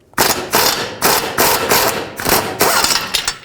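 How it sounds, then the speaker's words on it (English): An impact gun with a socket works the nut off a rear sway link on a 2011–2014 Chrysler 200, sounding as loud, close hammering bursts, roughly six rattling pulses in quick succession, with no talking. "Now I'm just going to use a socket and a gun, try to get it off."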